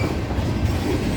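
CSX freight train rolling in and slowing to a stop, a steady close rumble of railcars with faint wheel clatter, continuous and without voices.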